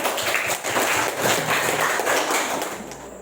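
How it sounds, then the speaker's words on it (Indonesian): Classroom applause for a student in a ninth-grade social studies class: a short burst of many hands clapping together, dense and steady for about three seconds, close by, fading at the end. "Kita beri tepuk tangannya kepada Narisa"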